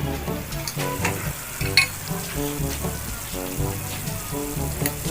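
Shrimp paste (bagoong alamang) sautés in a pan for a backyard Bicol Express with winged beans, a steady close sizzle and crackle with occasional stirring scrapes.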